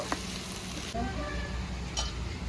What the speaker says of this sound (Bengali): এই স্প্যাচুলার সাহায্যে একটু নাড়াচাড়া দিয়ে দেবো এটা একটু হালকা হালকা ভাজা ভাজা করব